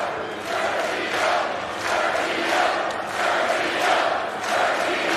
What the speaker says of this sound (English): The crowd is getting behind Deisante, calling Sergio.